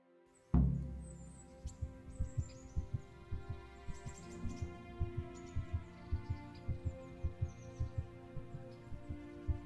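Steady heartbeat thumps play in the Kingdom Come: Deliverance video game, starting after a sudden low boom and repeating in an even double-pulse rhythm over a low hum, loud and close with no talk.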